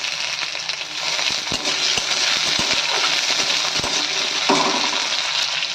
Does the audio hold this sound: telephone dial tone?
no